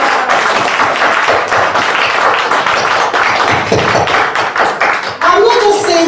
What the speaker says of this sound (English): I want you guys to help me give a round of applause to my pastor